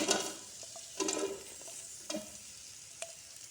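Onion frying in a tablespoon of oil for potato pulao, with soft sizzling and a few spoon stirs that scrape and clatter against the pan.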